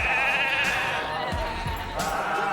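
A sheep bleats in a loud, wavering, sustained call that runs through nearly the whole stretch, close and clear with a slight vibrato and no talk over it.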